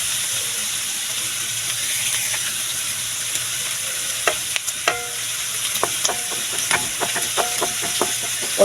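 Garlic, onion and ginger sauté in hot pork fat, a steady close sizzle with scattered clicks and scrapes of stirring growing more frequent toward the end.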